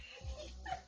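A dog gives a brief, faint whimper up close, a soft whiny yelp lasting under a second.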